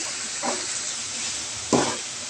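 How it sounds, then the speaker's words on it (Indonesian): Chicken, salted vegetables and seasonings sizzle in a hot pan under a steady hiss, with two distinct scraping stirs, a soft one early and a louder one later. "Kita aduk biar menyatu semuanya."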